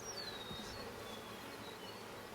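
Mountain Grey Caucasian honeybees buzz faintly and steadily during a hive inspection, a soft continuous drone with an occasional closer pass.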